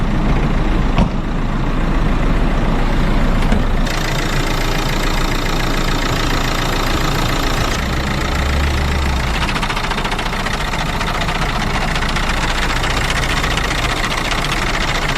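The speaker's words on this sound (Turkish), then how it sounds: "Klimayı kapattım. Klimayı kapatınca ses kesiliyor." Hyundai H100 van engine idling with the hood open, its faulty air conditioning adding a continuous knocking, rattling noise over a steady low engine drone, loud and close throughout.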